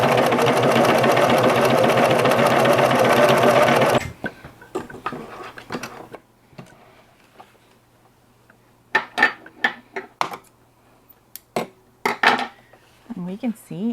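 A Singer 9420 sewing machine stitches a test pattern in a loud, rapid, close run lasting about four seconds, then stops, followed by scattered handling clicks and clatter.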